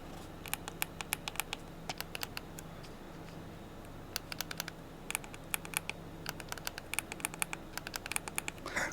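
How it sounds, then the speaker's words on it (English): Nintendo Switch controller joystick clicked repeatedly in irregular bursts of crisp, close taps over several seconds, with brief pauses between the clusters and no voices. "So the Switch has a louder click"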